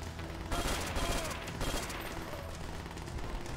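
An MG 42 machine gun firing in Call of Duty: World at War, a loud burst of rapid gunfire around the middle, then a busy rumbling battle din continuing at a lower level.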